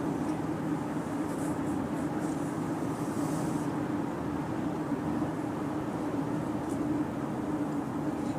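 A 2013 Mazda CX-5 moves through stop and go traffic, heard from inside the cabin as a steady low engine and road drone with little change.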